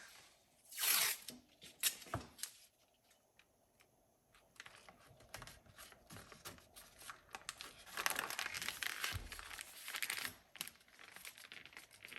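Tape being handled and applied to the linseed-oiled wooden handle of a vintage Mann fireman's axe under restoration: crinkling, tearing and sticky peeling sounds in irregular close bursts, with quiet gaps between them.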